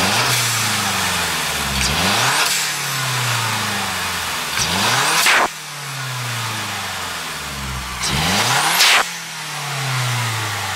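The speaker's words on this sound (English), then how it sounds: "Here is a current blow off, chucking fat choo-choo noises out of this." Mazdaspeed3 with a Turbo XS blow-off valve venting to atmosphere: three loud, close rev climbs, each cut off by a sharp, hissing whoosh before the engine settles back down.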